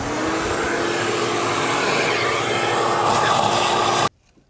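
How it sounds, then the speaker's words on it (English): A vacuum drones loudly and steadily while sucking leaves and debris out of the lower intake area of a 2003-2009 Toyota 4Runner, then cuts off abruptly near the end. "So I'm going to vacuum all that out."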